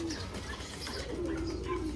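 A pigeon coos softly in low, throaty rolls, quiet and close amid faint background noise.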